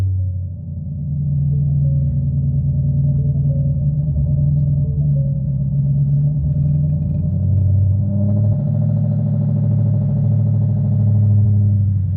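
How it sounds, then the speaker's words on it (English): A manual-transmission car engine idles after being started: a loud, steady low rumble with an even throb that holds for several seconds. "We're going to go ahead and crank the car."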